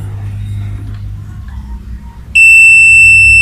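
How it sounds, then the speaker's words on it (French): A smart-home intrusion alarm is set off by a window being opened and starts abruptly partway through as a loud, steady, piercing electronic tone. Before it kicks in there is only low rumbling room noise. "Vous verrez qu'une fois ouverte, l'alarme va déclencher."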